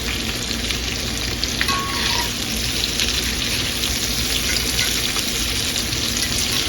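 Onion sizzling in a pan while cooking, a steady loud broadband frying hiss throughout with a few brief clinks and stirring touches, no talking.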